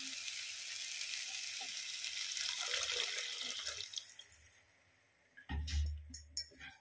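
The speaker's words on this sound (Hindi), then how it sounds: "और इसमें डाल दूंगी थोड़ा सा पानी।" Water poured into roasting vermicelli in a pan makes a loud, hissing sizzle that fades over several seconds, followed by a short quiet pause and a few sharper splashes and clatters near the end.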